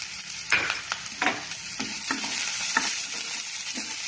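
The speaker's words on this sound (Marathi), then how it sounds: "आता आपण त्याच्यात कांदा टाकूयात कांदा बारीक गॅसवरती परतून घ्यायचा आहे" Chopped onion sautéing in hot oil in a pan sizzles steadily, with repeated scraping strokes of a stirring spoon every half second or so, moderately loud and with no talking.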